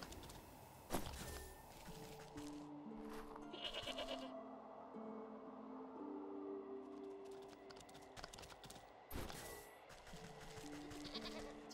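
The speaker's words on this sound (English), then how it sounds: "now I can lure goats around" Goats bleat in the video game Wytchwood, several soft calls repeating over a quiet ambient music bed, with occasional hoof-like clops and no talk.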